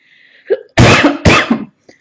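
Two sharp, forceful coughs in quick succession, close and loud, with a short breath before them.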